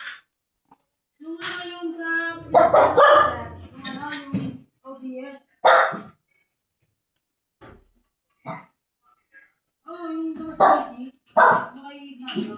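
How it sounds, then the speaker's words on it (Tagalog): A dog barks in short bursts while people talk close by, the barks mixing with the voices. "Si Clear ang tumatahol."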